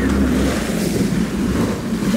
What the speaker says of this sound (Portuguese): eu vou tentar rodar o jet aqui